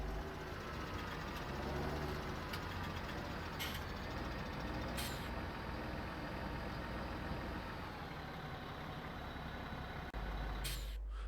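A vehicle is washed and parked in Farming Simulator 17: a continuous, even engine and machinery drone runs throughout, with occasional brief hissing bursts and a louder low rumble near the end, and no talking.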